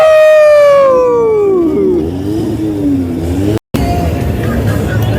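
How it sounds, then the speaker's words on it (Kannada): A pink limousine passes on the Las Vegas Strip: a loud engine tone falls in pitch as it goes by close, followed by rumbling traffic noise, with a short dropout near the end. "ಫುಲ್ ಪಿಂಕ್ ಲೆಮೋಸಿನ್ ಒಳಗೆ ಹುಡುಗಿಯರ್ ಕುಂತು ಪಾರ್ಟಿ ಮಾಡತ್ತಾರ. ಗಾಡಿ ಹೋಗೈತಿ ಪೂರ."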